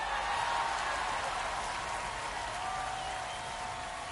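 Home crowd roaring and cheering after a strikeout in MLB The Show 25, a steady wash of broad crowd noise at a loud, even level throughout with no speech on top.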